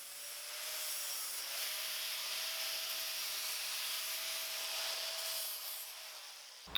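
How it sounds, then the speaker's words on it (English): Sandpaper rubbing the inside of a notched metal tube, a continuous close scratchy hiss with a faint tonal whine running through, steady and alone until a small knock at the end. "Keep checking your fitment and keep sanding this until it fits just right."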